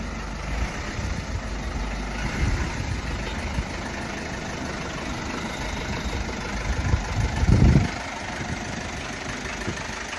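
An imported Japanese right-hand-drive diesel Mazda truck idles with a steady low rumble and a faint knocking texture, swelling briefly louder near the end with no talking.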